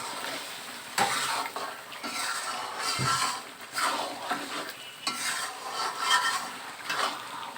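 Meat with ground spices being stirred and braised in a pan, repeated spoon scrapes and knocks against the metal over a soft sizzle, close and irregular in rhythm, no speech.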